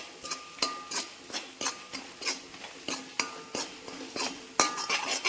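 Chili powder being stirred in a pan for curry leaf pickle with the gas turned off, giving a steady series of scraping, clinking spoon strokes against the metal, close and fairly quiet, with no voices.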